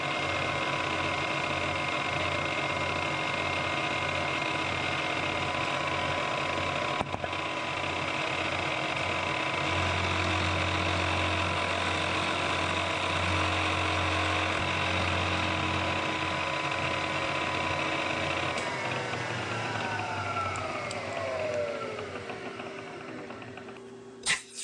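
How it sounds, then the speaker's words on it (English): A machine tool steadily cuts about 3mm off the surface of a part from a vintage Hobart MIG welder, giving a continuous humming mechanical drone that holds for most of the time and then winds down near the end. "The first step is to go ahead and machine about 3mm off of this surface, about 56mm from the right edge."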